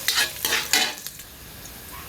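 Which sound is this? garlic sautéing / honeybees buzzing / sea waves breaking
garlic sautéing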